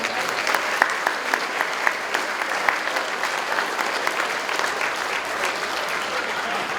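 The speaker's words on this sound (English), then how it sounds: "Please a round of applause." A round of applause rises from the audience at the Tesla Gala in Winona, a steady wash of many hands clapping that holds evenly throughout, with a few crisp claps popping out nearby.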